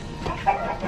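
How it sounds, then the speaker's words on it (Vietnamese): Panicked chickens clucking inside a coop during a snake intrusion in a house, a short burst of agitated fowl calls at close range with no talk. "Ui gà nó đang hoảng loạn này"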